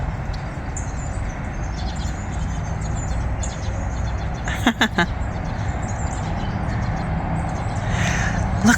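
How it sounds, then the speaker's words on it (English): Many small birds chirp and twitter continuously at a moderate distance over a steady rushing background, with a brief louder flurry of calls midway. "Oh, little birds."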